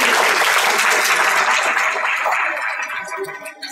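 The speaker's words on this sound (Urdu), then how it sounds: "تالیاں بجائیے بھائی" An audience at a school debate competition claps for the winners, a loud, dense burst of applause that slowly thins out and fades over a few seconds.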